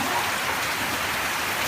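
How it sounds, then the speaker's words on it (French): Steady rain falls throughout, a dense, even hiss of drops with no pauses and no voices. "il pleut"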